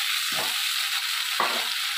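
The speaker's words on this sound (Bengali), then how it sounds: "দেখুন পেঁয়াজ কলিগুলো আমার ভাজা হয়ে যাচ্ছে" Onion stalks fry in a hot pan with a steady, close hiss, broken twice by brief low scraping stirs; no voices.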